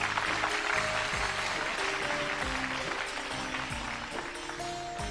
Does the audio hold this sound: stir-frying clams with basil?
no